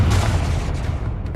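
A Confringo explosion spell in the video game Hogwarts Legacy, a loud, deep boom that fills the whole moment and rumbles on without a break.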